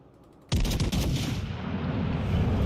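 Warship main guns firing in World of Warships Legends, a sudden heavy booming salvo that erupts and rolls on into a sustained loud rumble.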